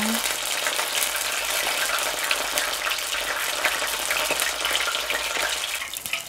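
Oysters and crisp spring roll wrappers deep-frying in hot oil over medium-low heat, a dense continuous sizzle and crackle that stays loud and even throughout, with no talking.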